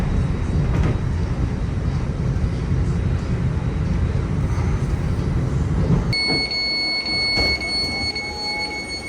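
A loud, steady rumble of a train running in the San Francisco Bay Area, which suddenly drops away partway through, leaving quieter ringing tones and clatter.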